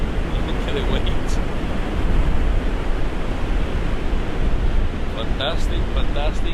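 Ocean waves on the Oregon coast, a steady broadband wash of surf and wind noise filling the whole stretch, with brief faint voices or bird-like calls near the end.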